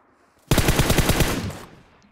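Video game shooter gunfire bursts in suddenly as a loud, rapid string of close shots. It lasts about a second, then fades out.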